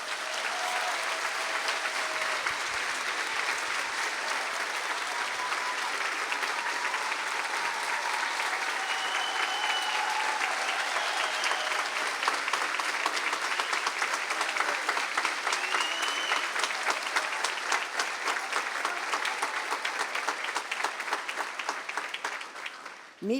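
A church congregation claps at length during a Spanish-language service, steady dense applause lasting over twenty seconds and growing into a rhythmic beat toward the end, with a few voices heard through it.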